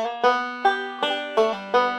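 Five-string banjo playing a one-measure Scruggs-style pull-off lick: five evenly spaced bright plucked attacks with ringing sustain, close and clear, no voices.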